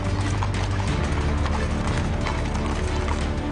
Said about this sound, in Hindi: राष्ट्रपति भवन के घोड़े रिहर्सल करने में जुटे हैं